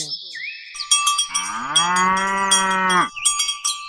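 Cartoon cows give one long, loud, drawn-out moo in the middle, with chiming cowbell rings and cheerful electronic tones before and after it.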